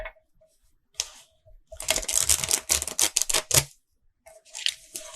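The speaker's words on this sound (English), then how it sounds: "So, I'll give these a good shuffle first." A deck of tarot or oracle cards is shuffled by hand in a quiet room, giving a few rapid bursts of crisp riffling and flicking with short pauses between them.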